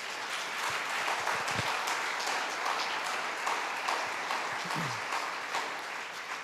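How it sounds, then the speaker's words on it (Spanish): A church congregation applauds steadily for several seconds during a service, a dense wash of clapping with faint voices and a few low thumps mixed in. "¿por qué no le das un aplauso al Señor?"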